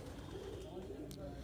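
A Fulsara pigeon in a Delhi loft coos in low, rolling murmurs, a brief soft burst set against a busy background.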